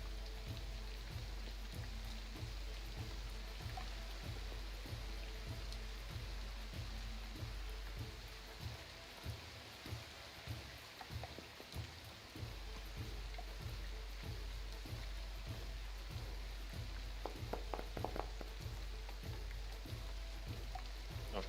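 Steady rain ambience plays through a tabletop Pathfinder game session, a continuous hiss of drops on a surface with low rhythmic patter, moderately loud and unbroken, with no voices over it.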